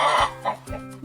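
A chicken gives a few quick clucks in close succession, loud and near, with no other voices.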